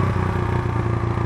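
Steady engine drone from an Italika Spitfire motorcycle being ridden on a test run, an even mid-pitched hum with a rapid pulsing beat and no voices.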